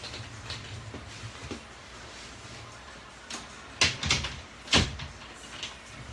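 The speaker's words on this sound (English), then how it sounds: "Gotta close my door." Door closed in a room, a few soft knocks and shuffles followed by two sharp thuds as it swings shut and latches, fairly close against a quiet background.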